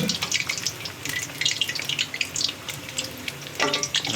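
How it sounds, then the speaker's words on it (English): Sesame-coated Ham Sui Gok, Hong Kong-style fried dumplings, deep frying in hot oil, giving a steady close bubbling crackle with brief stirring sounds and no voices. "let the oil deep fry the whole sesame Ham Sui Gok evenly"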